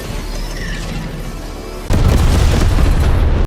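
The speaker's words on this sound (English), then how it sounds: "Requesting orbital strike." An orbital strike from the Helldivers video game lands as a loud, sustained blast, with a steady rumble that jumps to a heavier booming roar halfway through and then cuts off abruptly.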